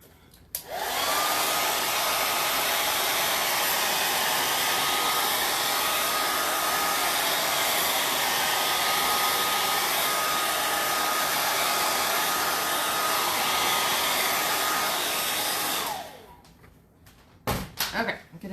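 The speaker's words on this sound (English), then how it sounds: "Let me hit this with the blow dryer real quick." A handheld blow dryer roars steadily and loudly for about fifteen seconds while drying fresh craft paint on a watering-can door hanger, then cuts off, followed by a few brief clicks and handling knocks.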